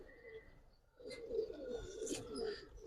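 Giribaz silver and colored pigeons coo softly on a rooftop loft, a low continuous murmur of calls that swells after a brief quiet start, with no voices.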